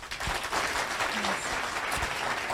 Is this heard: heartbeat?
no